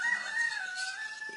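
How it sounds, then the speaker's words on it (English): A rooster crows once, a single drawn-out cock-a-doodle-doo call, heard clearly at moderate distance with no talking. "that's our sassy rooster."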